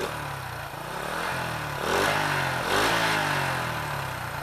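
A Honda Revo motorcycle with its stock exhaust runs close by, idling steadily and then revving twice into louder, rising bursts before settling.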